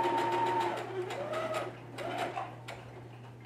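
Sewing a fabric face mask, a machine back stitches in short bursts with tight rhythmic ticking, close and moderately quiet over a steady low hum, briefly pausing between runs.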